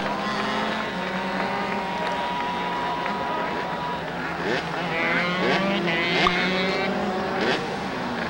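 Several 80cc racing karts buzz past on a track at a Northern Nevada kart club evening show, a steady high engine whine rising and falling as they pass, loud, with crowd and voices faintly under it.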